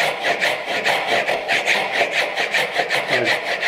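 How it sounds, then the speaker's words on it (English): A hand saw cuts steadily through wood for a bridle joint, a close rhythmic rasp of quick even strokes with no talk. "it maintains a straight cut when I'm sawing it afterwards"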